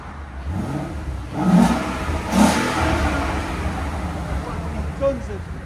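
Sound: car exhaust revving with valves open, resonator removed

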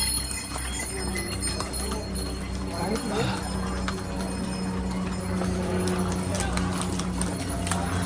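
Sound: horse hooves clip-clopping

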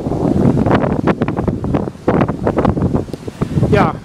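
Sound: strong stormy wind at a beach

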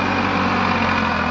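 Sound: Farmtrac 60 tractor engine pulling 6-foot rotavator

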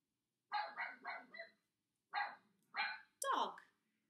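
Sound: dog barking

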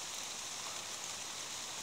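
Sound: falling rain

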